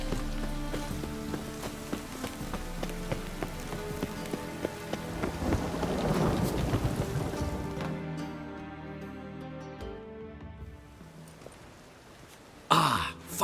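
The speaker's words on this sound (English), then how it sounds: "rain again." Rain and thunder in The Witcher 3: Wild Hunt, a steady patter of rainfall under the game's music with low rolling rumbles, easing off toward the end before a brief louder burst.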